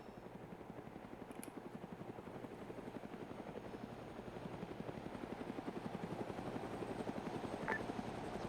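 Helicopters inbound, rotor blades thumping in a rapid steady pulse that grows gradually louder as they approach from a distance, with no speech over it.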